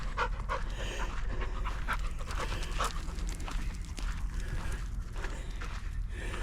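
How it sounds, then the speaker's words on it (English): An old dog panting steadily and heavily on a beach walk, close and continuous, with rapid rhythmic breaths and scuffing steps alongside. "My friend Brian's dog."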